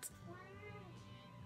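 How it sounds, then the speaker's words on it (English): A house cat meows faintly indoors, a drawn-out, wavering tonal cry that bends in pitch over about a second, quiet and close with low background hum and a brief click at the start. "Please excuse my cat meowing."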